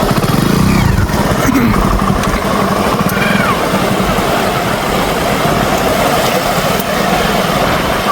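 A motorcycle rides through floodwater on a road, its engine droning loud and steady with constant rushing, splashing water noise throughout, close and continuous.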